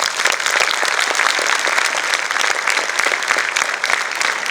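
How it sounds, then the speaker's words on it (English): Students at a Teachers' Day ceremony give their teachers a big round of applause: loud, dense clapping that continues steadily throughout with no pause. "I request all the students to display their solidarity by giving a big round of applause to our teachers."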